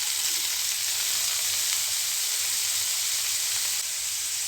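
Sliced potato sizzles hard in hot oil for a stir fry, a loud, steady, close hiss that holds without a break and with no voices over it.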